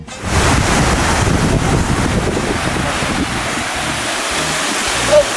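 Ocean waves at the seaside, a loud steady rush of surf mixed with heavy wind buffeting the microphone, continuous and close throughout, with no talk.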